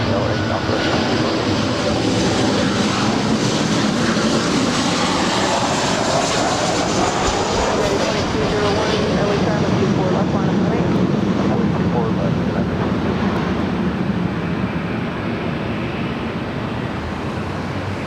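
A Southwest airliner takes off from LAX runway 24 left, a loud sustained jet roar heard from the ground that swells and then slowly fades, with voices speaking over it.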